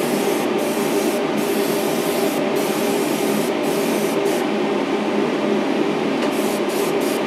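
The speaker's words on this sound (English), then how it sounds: "It's just kind of misting all over the place." Spray paint misting over a custom Wonder Woman figure base, a continuous loud aerosol hiss with brief breaks near the end, no talk.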